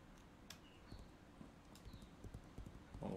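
Horse hooves clip-clop in the online role-playing game Legends of Aria, a fairly quiet, steady patter of hoofbeats under faint ambient game sounds.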